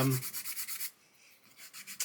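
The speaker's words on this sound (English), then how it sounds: "just holding it and sanding it and keeping it flat" Rubbing strokes from sanding a large flat cockpit instrument panel for a Red Fox detail set on a scale model, a short series of soft rhythmic passes near and close, then a pause before the strokes resume.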